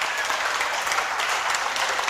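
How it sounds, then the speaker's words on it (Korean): A lecture audience clapping in a standing ovation practice, steady, fairly loud crowd applause with even, continuous texture throughout and no voices rising above it. "노래가 끝나면은 막 박수 함성과 함께 이렇게 치면은 그게 바로 기립박수 연습입니다"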